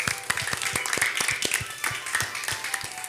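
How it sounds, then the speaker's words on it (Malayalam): Hands clap in a steady, fairly close round of applause, closing out an episode of a Malayalam show, with sharp individual claps ringing over a brighter wash of clapping. "ഈ സ്വർഗത്തിൻ്റെ വക ഒരു ബിഗ് ക്ലാപ്പ് നിങ്ങൾക്ക് തരികയാണ്"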